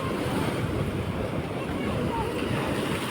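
Steady roaring wash of sea waves breaking on a rocky village shore, dense and continuous with wind noise on the microphone, no distinct breaks.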